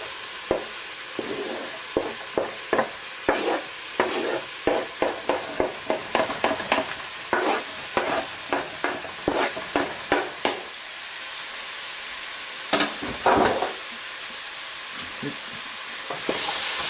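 Chopped onion, garlic and chilies frying in a pan for a spicy mushroom and tomato ragu, stirred with a run of close, rhythmic scraping strokes over a steady hiss of sizzling oil, then a few final stirs after a pause.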